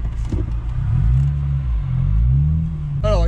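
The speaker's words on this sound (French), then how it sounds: "Elle fait un très très beau bruit, la voiture." Honda Civic Type R EP3 with its K20 engine, a steady close rumble that rises and falls through a couple of revs, with a short voice at the end.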